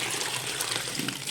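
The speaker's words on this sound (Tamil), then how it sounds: "ஓரளவுக்கு தண்ணி ஊற்றிடுறேன்." Water poured into the cooking pot that just held heated oil, for murukku dough, a steady close splashing gush with no talking over it.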